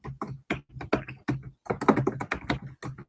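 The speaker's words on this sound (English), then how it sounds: "And I'm typing Jason Goodman." Typing on a computer keyboard, steady bursts of close, crisp key clicks with brief pauses, heard alone.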